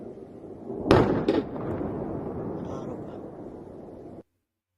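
A missile strike hitting near a house, caught in news footage: a sharp, loud impact thump followed by a second smaller jolt, then a rumbling, wind-buffeted roar that fades out abruptly.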